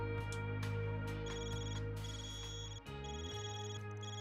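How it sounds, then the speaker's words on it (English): A cipher phone device rings in a video game, a loud electronic ringtone of repeating tonal trills over steady background music, with a brief dip partway through before the ringing resumes. "Van, your cipher's ringing."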